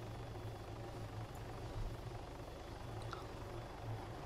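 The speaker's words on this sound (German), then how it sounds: "wir werden unseren Heli hier unten parken" A helicopter in the Arma 3 video game hovers and sets down, its rotor a steady, loud, pulsing drone that fills the whole clip without any talk.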